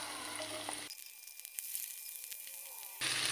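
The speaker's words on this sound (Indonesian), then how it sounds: "Kita tumis bawang merah, bawang putih," Shallots and garlic sautéing in fresh cooking oil sizzle steadily in a pan, a bright hissing crackle that stays close and even, with light stirring taps and no talking.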